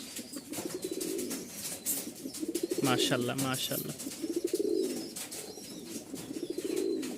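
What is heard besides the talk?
pigeons cooing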